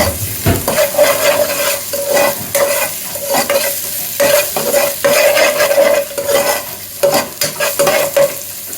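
Steady sizzling of food frying in a nonstick pan, with repeated scraping strokes of stirring throughout, loud and close.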